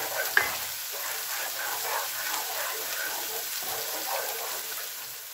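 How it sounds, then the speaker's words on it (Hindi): Ginger and garlic fry with a loud, continuous hissing sizzle while being stirred in a pan, with one sharp clink near the start. "अब मैं इसमें अदरक और लहसुन डाल रही हूँ। एक मिनट के लिए इसको मिक्स करना है।"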